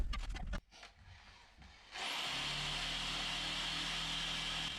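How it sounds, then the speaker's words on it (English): A steady, loud power tool fitted with a brass wire cup brush whirs continuously after a brief scraping start, with a bright abrasive hiss as it grinds old paint off a metal lawnmower body. "now out with the power tools and a brass wire cup to remove any remaining paint"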